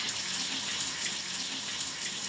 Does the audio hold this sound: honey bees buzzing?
no